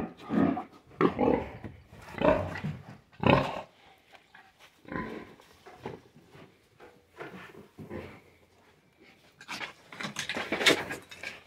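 Pigs on a pig farm grunt and squeal in repeated close bursts, loud and irregular, with quieter gaps between clusters of oinks.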